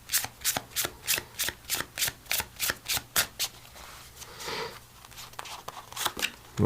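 Tarot and oracle cards shuffled by hand in a steady run of about a dozen sharp, evenly spaced riffles, then a softer rustling pause before more riffles, close and intimate, with no voices.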